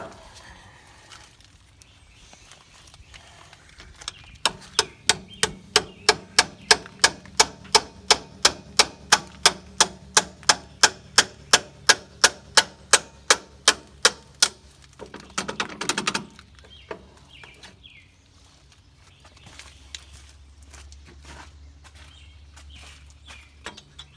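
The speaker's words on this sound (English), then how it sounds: "I've got an old shaft here that I'm going to just slip over this, and I'm going to tap it out." Steady hammer taps drive an old shaft out of the clutch on a 1941 Farmall H tractor, about thirty sharp, evenly spaced metallic strikes over roughly ten seconds, followed by a brief clatter and quiet workshop noise.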